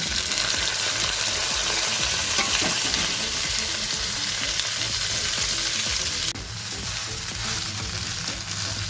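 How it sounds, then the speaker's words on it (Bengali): Boiled cracked wheat (dalia) frying in a pan with cashews and raisins, giving a steady loud sizzle with stirring scrapes throughout, dropping slightly in level near the end, with no talking. "এবার আমি সেদ্ধ করা ডালিয়াটাকে দিয়ে দেব"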